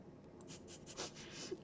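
A personal computer keyboard is typed on close by, giving faint, irregular soft clicks and taps in a quiet room.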